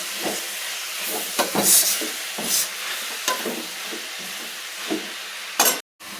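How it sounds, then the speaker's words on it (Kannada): Chopped fenugreek greens fry in an oiled pan for a North Karnataka-style dish, a steady soft sizzle broken by repeated scraping stir strokes, close and moderately loud, with no talking. "ಇದು ನೀಟಾಗಿ ಫ್ರೈ ಆಗಬೇಕು"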